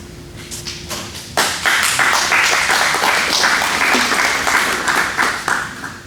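Audience clapping at a ham radio membership forum in a hall: after a moment of quieter room noise and a few taps, steady applause swells and continues densely to the end.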